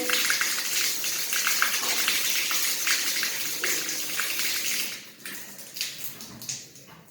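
Water drains steadily from a baptismal font after cleaning, with suds in the basin; a continuous rushing gurgle, close and fairly loud, thins out toward the end into uneven sputtering gulps.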